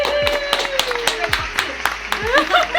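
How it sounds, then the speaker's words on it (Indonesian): Hand clapping in a casual indoor setting, a handful of sharp separate claps spaced irregularly over faint background voices and talk. "Tepuk tangan."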